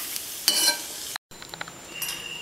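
Cashews and raisins fried in ghee stirred into a warm semolina laddu mixture: light scraping and stirring with faint sizzle, a brief louder burst, a short silent gap, then softer intermittent clinks and stirs.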